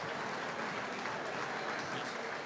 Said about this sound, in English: A standing ovation from the crowd on hand as Hickory wins the game 109-104.